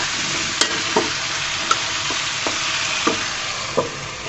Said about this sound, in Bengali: এভাবে আমি ভেন্ডিটাকে 2-3 মিনিট মতো কষিয়ে রান্না করবো।